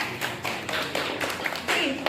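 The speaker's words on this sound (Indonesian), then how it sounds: "Ya, betul sekali, tepuk tangan." Students clap in a classroom guidance session, scattered uneven claps heard close by, with voices talking over them.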